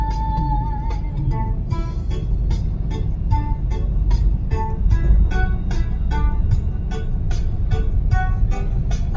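Steady road traffic on a narrow one-way street, with car and truck engines rumbling continuously and a dense train of rhythmic clicks or taps running through the whole stretch.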